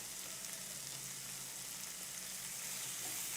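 Cauliflower fries in a pan with green chilli and red chilli powder, producing a faint, even crackling sizzle with no voices.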